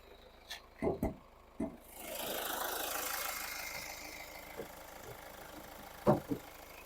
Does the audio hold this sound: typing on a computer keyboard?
no